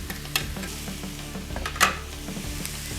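Herbs and spinach sizzle steadily in a frying pan while a utensil stirs and scrapes in irregular strokes, with one louder clatter partway through.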